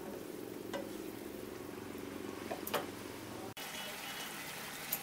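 A raw papaya kofta curry simmers in a pan, giving a soft, steady bubbling and gentle sizzle at low volume, with a brief dropout midway and a few faint clinks.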